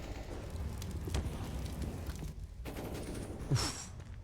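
Gunfire in Counter-Strike: Global Offensive during a pro match, a dense stream of rapid shots and impacts that runs steadily throughout at moderate loudness, with one sharper crack near the end.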